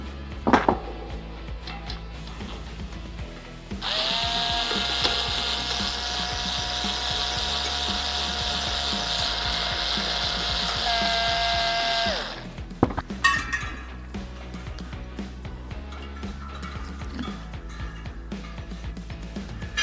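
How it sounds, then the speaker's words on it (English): A whirring power tool unscrews bicycle wheel spokes, running steadily for several seconds amid clinking metal and handling noises, then stops, leaving light rattles and clicks. "So that we could use the power tool to unscrew them."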